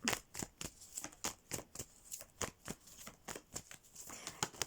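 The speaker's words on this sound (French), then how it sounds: "Alors, on va tirer un peu plus de cartes." Tarot cards being shuffled and drawn for an air-sign love reading produce a quick rhythmic series of soft papery flicks and riffles, close and fairly quiet, with no speech.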